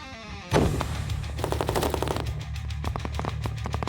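Loud gunfire erupts suddenly during a military assault training exercise, followed by rapid bursts of automatic shots cracking in quick succession, close and sharp.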